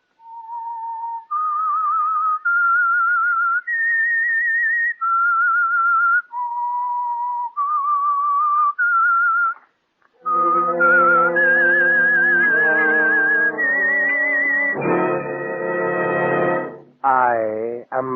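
The Whistler radio program's signature tune is whistled as a clear melodic run of sustained notes stepping up and down, followed by a fuller orchestral-sounding chord passage that swells and ends abruptly.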